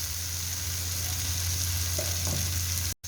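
Tomatoes and Kashmiri chilli powder sauté in a pan, a steady close-up sizzle that holds evenly throughout before cutting off abruptly at the end.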